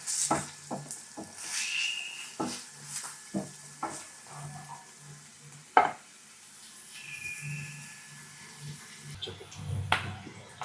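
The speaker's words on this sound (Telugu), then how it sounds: "ఆనియన్స్ చిన్నగా కట్ చేసి వేసుకోవాలి" Finely chopped onions fry in oil for a crab curry, giving a steady low sizzle broken by repeated spoon-scraping and stirring clatters, with one sharp knock midway.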